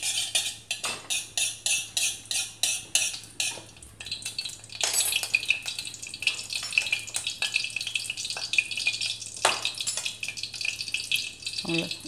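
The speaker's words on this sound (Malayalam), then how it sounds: "ലേസം നെയ്യ് ഒഴിച്ച് വിട്ടുകൊണ്ട് അതിൽ വറുത്ത് കോരാം." Food frying in ghee in a hot pan, a steady bright sizzle running throughout with clinks of a utensil against the pan and rhythmic scraping early on, close and moderately loud.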